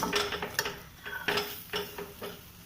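Semolina halwa with desi ghee stirred continuously in a pan, a series of close metallic spoon scrapes and knocks against the pan in an uneven rhythm over a faint sizzle.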